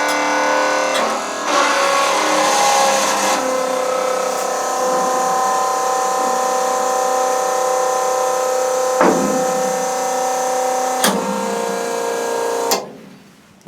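An electric fuel transfer pump runs steadily, a continuous mechanical whine with humming tones, interrupted by a few clicks and knocks before it cuts off abruptly near the end.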